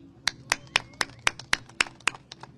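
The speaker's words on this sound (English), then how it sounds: "Let's have a round of applause" Sparse, rhythmic clapping at a press event on immigration raids, roughly ten sharp claps in a steady beat, fairly close and distinct rather than a full wash of applause.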